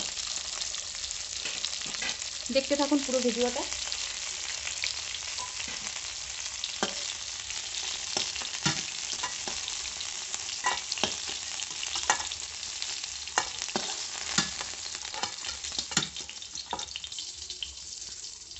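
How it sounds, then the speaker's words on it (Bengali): Tilapia fish frying in oil in a home kitchen, a constant close sizzle with scattered pops and scraping stirs over a long stretch, and someone briefly speaking early on. "এখন আমি এই যে মাছ ভাজছি"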